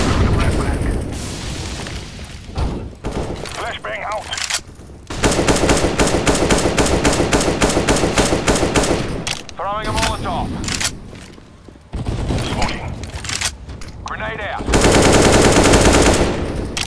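Bursts of AK rifle fire in the game CS:GO on the Nuke map, with rapid rhythmic automatic shots in long strings and separate single cracks, loud and close, while players talk over it between bursts.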